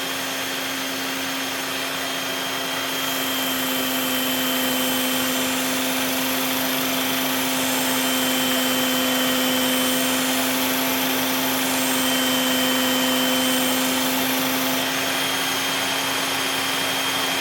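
A Work Sharp Ken Onion electric knife sharpener runs continuously and loudly, a steady motor whine with a humming tone that holds for many seconds without pause or speech.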